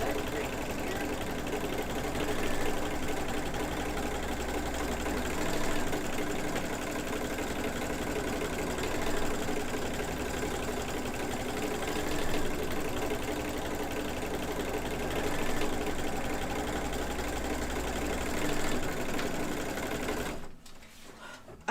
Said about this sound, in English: it's the tack down stitch, so it is going to stitch it down